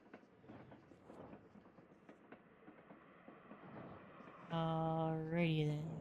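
A train in the video game Little Witch in the Woods rolls along its rails with a low rumbling clatter, and a louder droning hum swells near the end.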